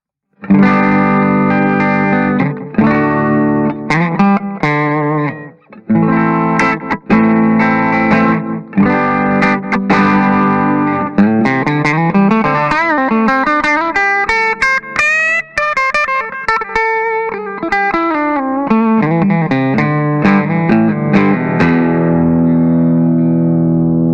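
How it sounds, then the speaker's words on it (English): Clean electric guitar, a Harley Benton DC Junior FAT LTD, through a clean amp with delay and all controls at full, chords and arpeggiated notes ringing out with echoing repeats, loud and continuous with no talking. "So I'm going into a clean amp with a little bit of delay."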